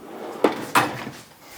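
A drawer in a workshop tool chest opens or closes with two sharp knocks about a third of a second apart, close and fairly loud, followed by faint rattling over a quiet room.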